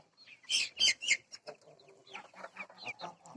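Domestic chickens cluck and chirp close by while being fed in a village yard, a busy run of short, uneven calls, louder at first and then softer and more scattered.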